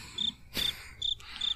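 Cricket chirps added as a sound effect fill a quiet pause, four short, bright, evenly spaced chirps heard alone with a brief rustling burst between the first two.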